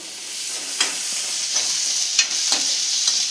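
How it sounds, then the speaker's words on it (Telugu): Onions fry in a pan, giving a steady bright sizzle with a few soft stirring scrapes now and then, close and continuous with no talk. "ఇవి ఆనియన్స్ కొంచెం మగ్గినాయి"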